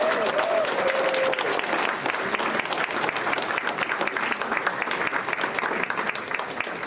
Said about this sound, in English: I do want a big round of applause for all of the awardees.